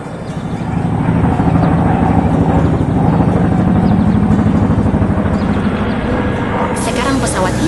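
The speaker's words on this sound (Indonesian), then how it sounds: "Sekarang pesawat itu menyemprotkan kabut pelindung ke seluruh pepohonan untuk mengusir hama." A cartoon aircraft sprays protective mist over apple trees in an orchard, its engine a steady, loud drone that rises in over the first second and holds throughout, with a brighter hiss joining near the end.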